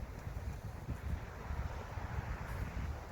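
Wind gusting across an open disc golf course, a low, steady rumble of buffeting against the microphone, fairly quiet and with no voices.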